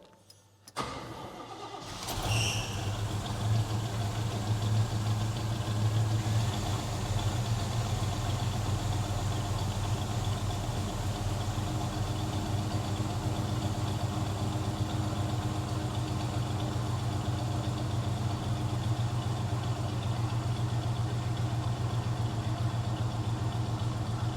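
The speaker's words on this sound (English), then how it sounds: "Just to see if it's right, I gotta start the car to do that." An EFI Chevrolet El Camino cranks briefly and fires, then settles into a steady, loud, close idle that runs on evenly with no talk.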